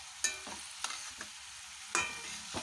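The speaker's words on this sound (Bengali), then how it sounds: "আমি এখন আলু সয়াবিনগুলো দিয়ে ভালো করে কষিয়ে নেব।" Potatoes and soy chunks being stir-fried in masala with a little water, giving scattered scraping stirs and soft sizzling bursts, close and fairly quiet, with no talking.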